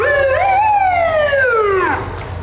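A police car siren at a rodeo parade, a loud close wail that rises, holds and then sweeps downward before cutting off.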